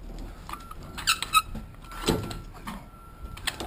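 A trailer's landing gear handle slides along and locks into place with squeaky metal scraping and a couple of sharp clicks, close by and with no one talking.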